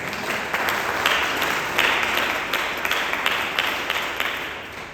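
A church congregation applauding: steady, dense clapping from a crowd that rises and falls in waves, filling the room with no voice heard over it.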